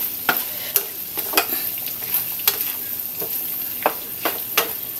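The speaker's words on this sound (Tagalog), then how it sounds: "Haluin natin." Pork menudo with carrots and potatoes being stirred in a pan, a utensil scraping and clacking in irregular strokes over a steady sizzle, with no talking.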